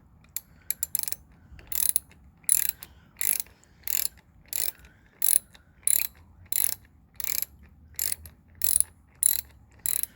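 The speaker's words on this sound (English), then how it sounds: "Ratcheting action works now once there's enough tension." A camera bracket adapter ratchets, giving repeated sharp clicking bursts in an even rhythm, about a dozen close, distinct clusters with quiet gaps between them.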